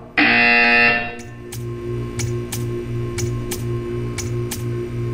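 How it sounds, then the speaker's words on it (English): Video game buzzer in Portal 2 sounding as a loud, harsh tone for about a second, followed by a steady rhythmic ticking pulse with sharp clicks, no voices. "You will hear a buzzer. When you hear the buzzer, stare at the art."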